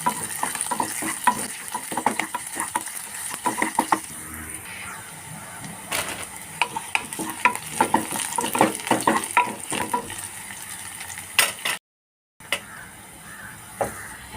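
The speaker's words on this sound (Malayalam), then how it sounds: "ഇതുപോലെ ചെറിയ ഉള്ളി മാത്രമായിട്ട് ഒന്ന് തളിച്ച് നോക്കട്ടെ" Small shallots frying in hot oil for tempering a drumstick leaf curry, a steady close sizzle with crackles and occasional stirring scrapes, briefly cut to silence near the end.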